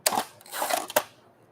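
A large format camera shutter fires in a studio shoot: a few crisp, close mechanical clicks in quick succession, with no voice over them.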